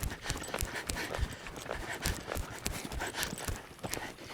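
Hooves of a loping horse carrying a rider, a steady rolling three-beat thudding with soft breathing, close and continuous throughout.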